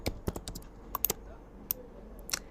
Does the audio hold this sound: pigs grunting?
no